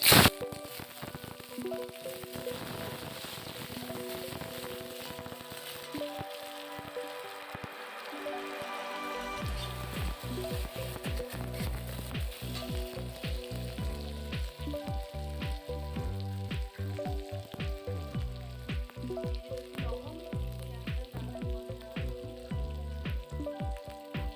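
Whole cumin and onion hit hot oil in a pan, a sudden burst of loud crackling frying that settles into a continuous sizzle with frequent stirring scrapes, no voices.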